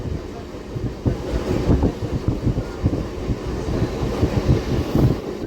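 A MEMU local train runs between Kazipet and Secunderabad, heard from inside with a loud continuous rumble and rhythmic rattling clatter of wheels and carriages, plus some wind buffeting.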